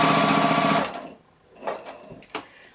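A sewing machine runs in a fast rapid stitch along a drawn diagonal line on quilt half square triangles, then stops, followed by a couple of soft handling clicks and rustles.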